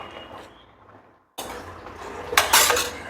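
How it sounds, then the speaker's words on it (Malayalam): A spoon scrapes and clinks against a pot of boiling curry, with a sharp burst of metallic stirring near the end after a brief pause; no talk. "ഒന്ന് ഇളക്കി കൊടുക്കാം."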